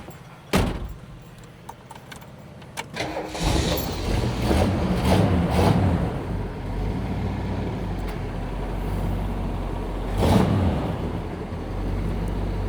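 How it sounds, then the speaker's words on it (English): A 1969 Ford XL Sportsroof starts up: keys jangle, a door thuds, then the engine cranks and settles into a steady rumbling idle that swells briefly, close and without talk. "I'm going to start the car up, Dalton"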